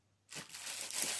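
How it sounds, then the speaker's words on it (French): Paper crinkles and crackles close by in a short continuous burst, a crisp rustling that starts abruptly and keeps going. "Désolée pour le bruit du papier."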